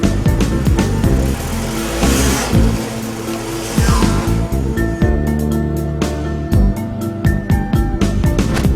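A car driving, with its engine running and rising and falling as it moves, steady and fairly close, while music plays prominently over the top and no one speaks.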